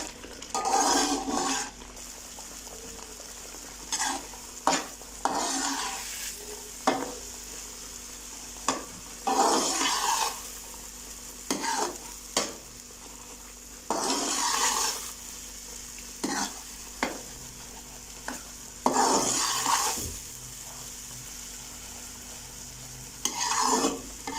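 Semolina and jaggery halwa stirred and roasted in a pan, with scraping strokes and soft sizzling in repeated bursts, close and moderately loud, and no one talking.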